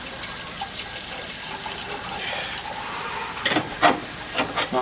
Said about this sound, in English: just rinsing the burner here of excess grit and following it through